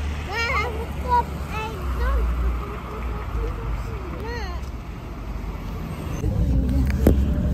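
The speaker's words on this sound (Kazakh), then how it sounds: "Бізде мынандай электробус." An electric bus pulls up on a city street in a steady wash of traffic rumble, with voices chattering over it and a sharp clunk near the end.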